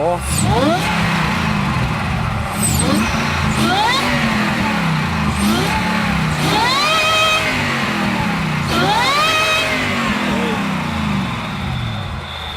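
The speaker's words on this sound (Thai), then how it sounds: "ขอเบิ้ลหน่อยได้ไหมพี่ แค่สตาร์ทก็แบบว่า โอ้โห" A Toyota Fortuner 1GD diesel engine swapped into a Hummer H3 with a manual gearbox is blipped repeatedly, loud rising and falling revs in about five bursts, close by, with people talking over it.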